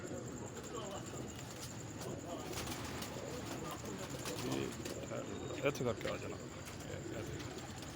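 A large flock of pigeons coos steadily in the background, their soft calls mixed with wing flutters while someone talks over them.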